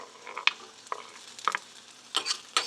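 Green chillies fry in a hot pan for radish chutney, giving a few sharp bursts of sizzle and stirring scrapes at an irregular rhythm, close and fairly quiet.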